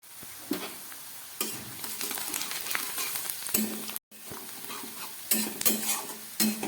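Onions fry in a pan for a Bengali dish, giving a continuous loud sizzle close by, with occasional scrapes and clinks of a utensil as they are stirred and a brief break partway through.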